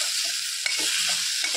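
Tomato and onion chutney sizzles steadily in a pan, a continuous bright hiss with a few soft stirring scrapes underneath, close and fairly loud.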